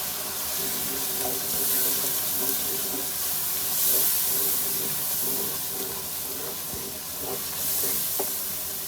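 A glass of water poured into masala frying in a pot for homemade paya, giving a steady loud hiss and sizzle that holds throughout with small crackles over it.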